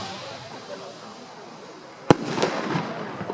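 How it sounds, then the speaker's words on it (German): Two Weco Goldrausch firework rockets launch, a sharp bang near the two-second mark followed by crackling bursts, heard outdoors over a low background murmur. "Von der Goldrau schießen wir Ihnen jetzt zwei Raketen."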